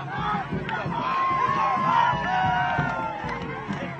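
A crowd of supporters cheers and shouts at a victory celebration, a dense, continuous roar of voices with raised cries rising over the babble.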